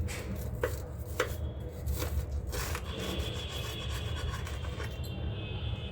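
A knife cuts through a toasted paneer sandwich on a board, giving a few soft crunchy strokes and scraping rubs close up, with no talking.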